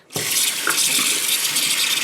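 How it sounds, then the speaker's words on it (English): Steady running tap water pours over a metal detector pinpointer being rinsed clean after use in dirt, starting abruptly and continuing as a loud, even splashing rush with no voices. "This pinpointer is fully waterproof. Rinses right off."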